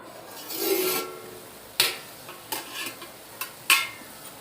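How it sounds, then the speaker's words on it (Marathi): A spoon stirs spring onion greens in a pan with several scraping strokes and sharp clinks against the metal, each stroke distinct and fairly close. "आता एकदा अशी हलवून घेऊया आणि यावरती पुन्हा झाकण ठेवून देऊया"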